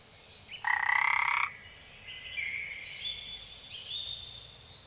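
Frogs croak nearby: a loud buzzing call followed by higher, trilling croaks overlapping, with no voices.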